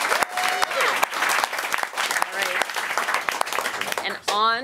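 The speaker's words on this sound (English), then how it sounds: "How about a round of applause for our teams?" A round of applause for competing teams at a national economics challenge, clapping running underneath people talking, with a few sharp individual claps standing out.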